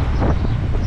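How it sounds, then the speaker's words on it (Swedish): Strong wind buffeting the microphone at a beach by the water, a loud, rough, low rumble that gusts without pause for under a second. "Tror att det blåser ganska mycket dock."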